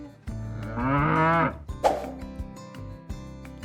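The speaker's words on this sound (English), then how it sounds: "I bet you know what sound a cow makes. Moo." A single long, close cow moo rises and swells, then fades, followed by a few soft knocks and thuds.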